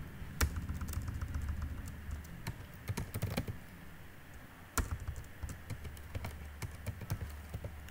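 Code being typed on a computer keyboard during a React JS tutorial, irregular bursts of close clicking keystrokes with short pauses, over a low steady background hum.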